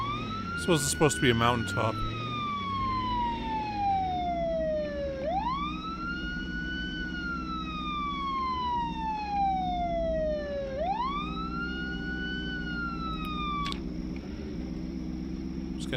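An emergency siren in the video game Project Zomboid wails in long rising and falling sweeps over a low rumble, repeating about every five seconds, with someone talking over it near the start.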